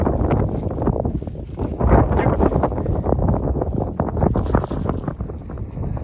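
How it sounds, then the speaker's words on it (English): Strong overnight wind buffets the microphone in continuous loud gusts, a rough roaring rumble with no voices. "Yes, it was windy all night. Still windy."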